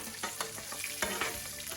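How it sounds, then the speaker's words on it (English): Fennel seeds sizzle in a hot pan alongside Mangalitsa pork chops, a steady close frying hiss broken by stirring scrapes and clicks. "you want to throw in your fennel seeds, which will also just cook through."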